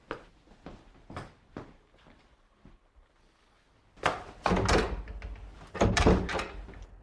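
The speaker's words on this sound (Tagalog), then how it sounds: "bakit hindi mabuksan ang pinto?" A door is tried but will not open: scattered knocks and handle clicks come first, then heavier, louder rattling thumps as someone pulls at it repeatedly.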